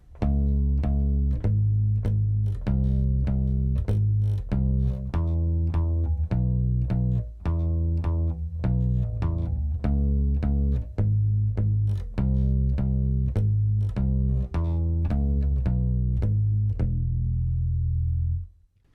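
A deep, slow bass guitar line plays the refrain of a song, plucking steady notes in an even rhythm, loud and close, ringing out alone before fading at the end.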